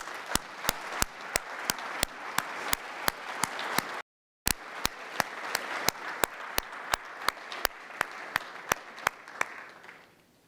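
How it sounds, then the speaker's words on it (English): Audience applause at a State of the Nation event for the Premier of the Cayman Islands: steady crowd clapping with one sharp, loud clap repeating regularly in front, briefly cut out midway before resuming. "Let us therefore applaud the Premier of the Cayman Islands to present the State of the Nation, the Honorable Alden McLaughlin."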